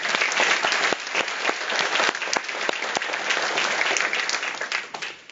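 Sustained applause from a graduation ceremony audience for the university dean Gupta at an EMBA recognition event, dense and steady clapping filling the hall before tapering off at the end.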